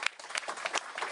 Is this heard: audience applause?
yes